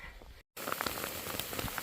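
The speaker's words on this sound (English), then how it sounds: "Nothing like some hail to start the hike." Hail pattering densely on a surface close by at the start of a mountain hike over Piute Pass, a rapid crackling of small impacts after a brief silent gap.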